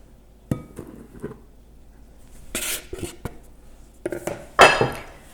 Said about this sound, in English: Next, you add a cup of grated zucchini. Whisk those together.